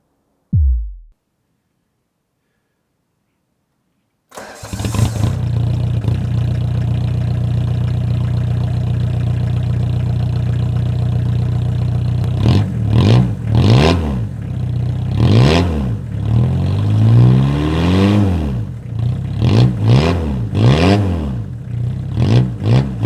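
An engine with a homemade stainless steel exhaust cranks briefly, then catches and settles into a steady low idle, followed by several sharp revving bursts rising and falling near the end.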